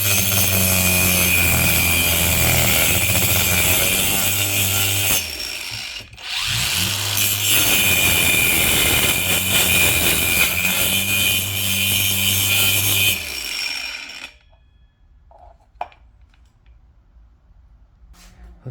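An angle grinder cutting wood in a home garage, a loud, sustained high-pitched whine and rasp that dips briefly, resumes, then cuts off, leaving a few faint clicks and knocks afterward.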